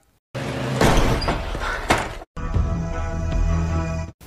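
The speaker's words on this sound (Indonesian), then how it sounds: "Teddy dan kaki tangannya mulai memasuki rumah Robert tapi ketika pintu itu didobrak" A door being forcibly broken open during an intruder break-in in a crime film scene: two loud sustained bursts of heavy crashing and impact noise with a brief pause between, close and dominant.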